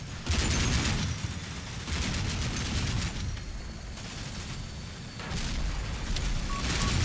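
Dense, continuous bursts of heavy video-game mortar fire and booming blasts rumble on for several seconds, loud and close, with no talking, in Combat Mission Shock Force 2.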